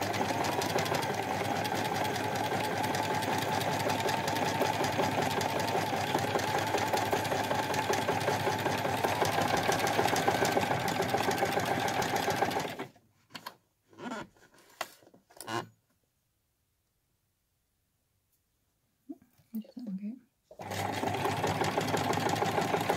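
A sewing machine stitches steadily around a quilted scissor case, its fast, even mechanical whirr running close and continuous before stopping into short bursts and near silence, then starting again.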